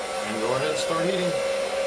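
A heat gun blows steadily up close as it heats a main shaft bearing on an Outrage Fusion 50 RC helicopter, a continuous airy roar with a faint tonal hum throughout.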